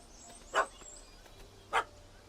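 A dog barks twice in a Witcher 3: Wild Hunt cutscene, two short, fairly faint yips about a second apart over a quiet background.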